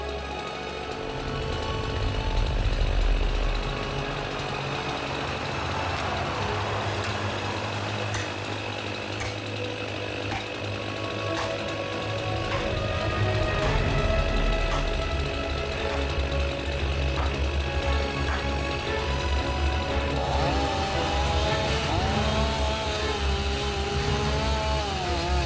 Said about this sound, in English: I'm cutting it down with my Stihl MS 500 Ballon high chainsaw with a 28-inch bar.